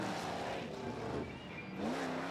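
Racing trucks at a Lima, Ohio tough trucks event, an LT1-powered Ford truck and a Jeep with a 350 cubic inch small-block V8, roar steadily with engine revving that rises and falls, loud and close throughout.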